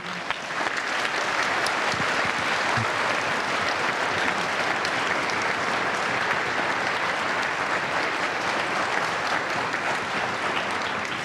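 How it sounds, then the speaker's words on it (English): Steady, sustained applause from a sizable crowd, clapping continuously and evenly throughout with no pauses. "Could you all give them a round of applause"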